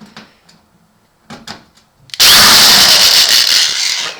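After a few faint knocks, a Black & Decker power drill starts abruptly and whirs steadily up close, loud and continuous, backing out screws from an oil boiler panel.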